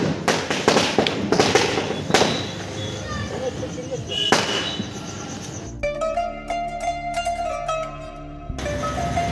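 Diwali firecrackers burst in a loud run of sharp bangs and crackles, followed by a dense, rapid popping sequence, with voices talking and cheering over much of it.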